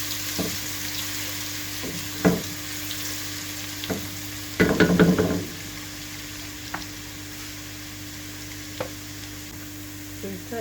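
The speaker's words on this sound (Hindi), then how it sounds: "अदरक का पेस्ट डालेंगे 1 टीस्पून। इसको बस हल्का जो है वो ब्राउन करेंगे।" Ginger paste browns in a pan with garlic, a continuous close sizzle broken by occasional sharp utensil taps and one burst of stirring, with no talking.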